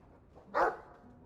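A dog in the Dragon Age 2 video game gives a single short bark, moderately loud against quiet game ambience.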